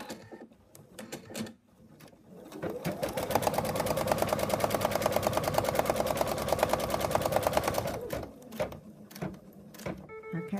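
An embroidery machine stitches out a color on an in-the-hoop wallet pocket with a rapid, rhythmic mechanical chatter that starts after a few clicks and runs steadily before stopping, followed by more handling clicks.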